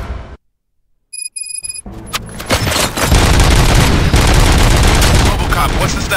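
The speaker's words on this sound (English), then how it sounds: "Gunshots? What's going on?" Gunfire in the video game RoboCop: Rogue City on PS5, beginning with a brief beeping alert after a silent gap, then a sustained, loud barrage of shots and explosive noise filling the rest of the clip.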